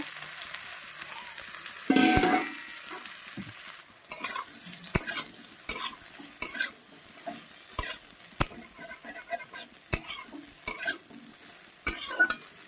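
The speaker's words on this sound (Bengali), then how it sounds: "তেলে আমি সয়াবিনটাও ভেজে নেব" Soybean chunks fry in oil left over from frying eggs, giving a steady low sizzle broken by frequent sharp clicks and scrapes of a spatula stirring against the pan, with a louder burst of hissing early on.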